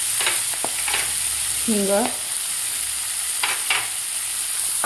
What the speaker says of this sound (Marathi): कांदा सुद्धा आपल्याला थोडासा सॉफ्ट होईपर्यंत परतून घ्यायचा आहे